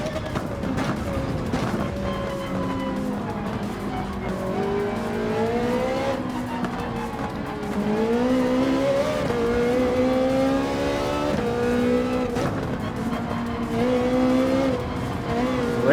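A Ferrari 458 engine in Gran Turismo 7 whines and shifts pitch as it accelerates and brakes through corners, with brief tire squeal, steady and close throughout.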